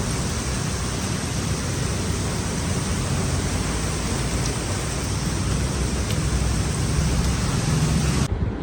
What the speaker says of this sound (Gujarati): અત્યારે ધોધમાર વરસાદ પડે છે